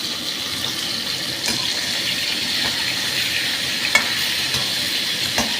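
Cauliflower frying with turmeric and salt in a pan gives off a steady, bright hiss of sizzling oil, with soft scraping and stirring knocks now and then, close and constant, and no voice.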